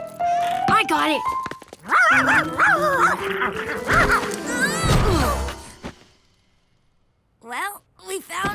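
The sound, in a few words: dog barking and whimpering in cartoon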